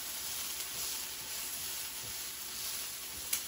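Garlic sautéing in a hot pan for a keto egg roll in a bowl gives a steady, even sizzle and hiss that runs throughout, with a brief louder crackle near the end.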